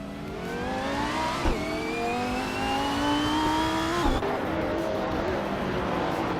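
Race cars in a racing video game, including a 2006 BMW 320, run nose to tail: engines rise steadily in pitch through the gears with a couple of quick shift breaks, loud and continuous, no voices.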